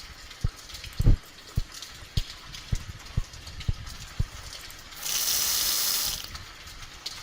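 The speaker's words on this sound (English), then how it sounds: "Grab pot, fill with water, heat to boil" Water running into a pot in a cooking video game, a steady broadband rush lasting about a second after a series of short footstep-like clicks.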